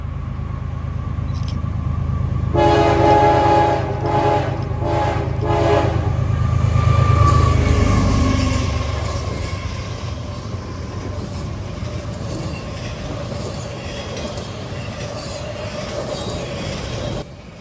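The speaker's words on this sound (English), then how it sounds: "our first train that comes in is CSX IL31. This train is a priority intermodal" CSX IL31, a high-speed priority intermodal freight led by an ES44AH locomotive, rolls in with a loud, sustained engine rumble and a long multi-tone horn blast early on, then fades to steady wheel and car noise as it passes close by.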